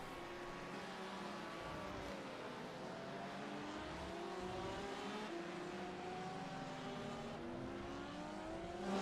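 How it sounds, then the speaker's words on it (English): A Ford GT race car in a racing video game roars continuously around the Sebring track, with engine tones sweeping up and down through gear changes as it accelerates, steady and close throughout. "pulling that Ford GT back on course"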